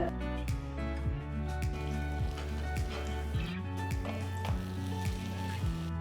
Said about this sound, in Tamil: மேலே லேசாக வெண்ணெயை தடவி மெதுவாக திருப்பி போடுங்க